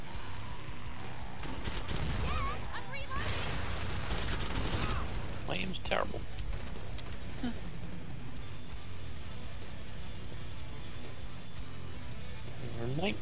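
Gunfire in the co-op shooter Killing Floor 2 on a dark museum map, bursts of rapid shots and crashing impacts early on, then quieter clatter with voices talking over the action.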